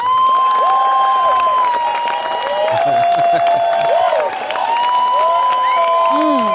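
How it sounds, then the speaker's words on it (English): Live audience applause and cheering during a livestreamed show, continuous loud clapping and whoops with sustained tonal sounds layered over the crowd. "A round of applause."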